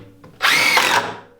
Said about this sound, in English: go ahead and screw it together.